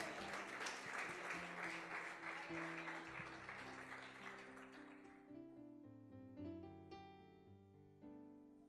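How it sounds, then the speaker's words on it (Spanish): A church congregation claps for the King during a sermon, a dense burst of applause that fades after a few seconds into sustained organ or keyboard chords playing on alone, heard at a distance. "Aplauda al Rey, a la palabra."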